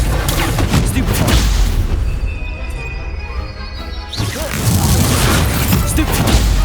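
Stupefy spell blasts in the Hogwarts Legacy game, a loud burst with whooshing and booming impacts amid dense combat noise, a brief lull in the middle before more explosive hits follow.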